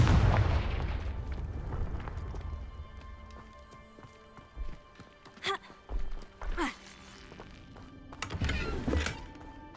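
The Confringo fire curse cast in Hogwarts Legacy, heard as a series of short, sharp blasts in quick succession and then a heavier burst near the end, all over a continuous bed of game ambience.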